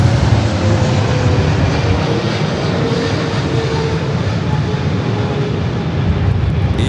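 A Boeing 777-300ER airliner arriving at LAX from Taipei produces a loud, continuous jet engine roar with faint whining tones, holding close and steady throughout.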